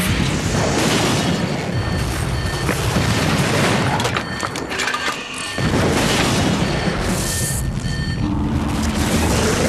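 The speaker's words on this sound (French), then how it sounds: "Je vous assure, Gus, j'ai vu un engin sortir juste avant l'explosion." A loud, sustained blast with rumbling booms fills the scene, briefly dipping midway before the roar surges back, with heavy crackling debris throughout.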